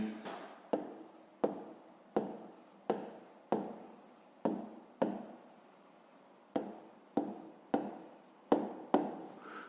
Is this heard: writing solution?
yes